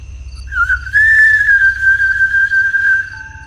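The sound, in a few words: whistling tune in dark woods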